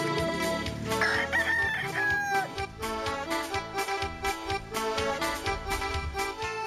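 A fighting cock crows in Sócota, Peru, a drawn-out call rising briefly over loud rhythmic music.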